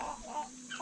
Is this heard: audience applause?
no